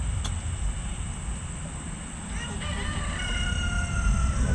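Chickens and a rooster in a suburban backyard coop, with faint crowing and clucking at a distance over steady low outdoor rumble and noise; no talking.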